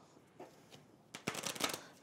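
Cards from the Resident Evil 2 board game being shuffled, a few soft riffles first and then a louder, quick burst of flicking cards near the end.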